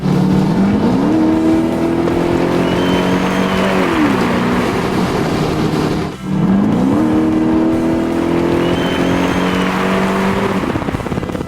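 Porsche 928 race car driving on a track, its V8 engine loud and close, revving up through gears in two rising sweeps with a brief lift between them.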